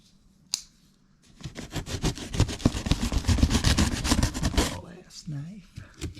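A knife slices through the cardboard packaging of a new PSC steering box, a steady close scraping and rasping cut lasting a few seconds, bracketed by a couple of sharp knocks.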